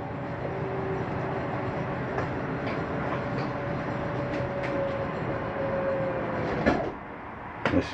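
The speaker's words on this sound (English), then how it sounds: "Some of these slides, when they get in, they make a clunky noise, just stopping it from going in any further." A 2022 Mesa Ridge S Lite 242RL RV slide-out retracts with a steady mechanical rumble and whine, then stops with a clunky knock near the end.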